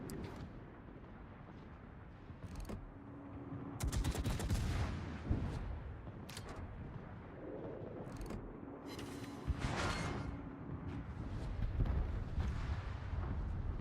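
Naval guns firing in World of Warships, with repeated sharp booms and rumbling blasts over a constant low engine and sea drone, some shots louder and closer, no talk.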